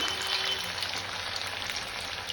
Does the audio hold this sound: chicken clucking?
no